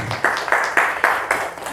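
An audience claps for teachers in an indoor school presentation room, a short burst of about six even, closely spaced claps in a steady rhythm.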